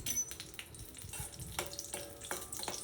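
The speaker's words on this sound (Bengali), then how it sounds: "এবার শুকনো লঙ্কা দিয়ে দিলাম। শুকনো লঙ্কাগুলোকে ভালো করে নেড়ে চেড়ে নেব।" Dried red chillies frying in oil in a wok, a soft crackling sizzle broken by sharper scrapes and clinks as they are stirred, close by with no voices.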